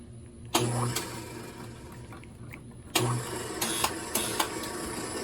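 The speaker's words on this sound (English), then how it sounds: "And now the rapids for the column travel back and forth, move." A surface grinder's column running back and forth at rapid traverse, a steady mechanical drone with sharp clunks and clicks as it reverses direction, several times in a few seconds, fairly close, with no talk.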